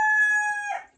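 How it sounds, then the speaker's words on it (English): A chicken gives a single sharp, close crow-like call, a sustained tone lasting under a second before breaking off, alone and loud. "That chicken scared me to death."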